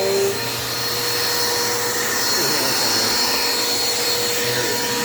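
A Dirt Devil Quick Power vacuum cleaner runs on carpet with a loud, steady whirring motor drone that stays constant and close throughout.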